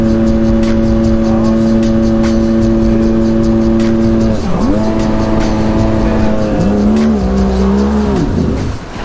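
A jet ski engine runs loud and close at freeway-like speed, holding a steady droning whine that dips twice and shifts pitch as the throttle changes, with rushing water and wind throughout.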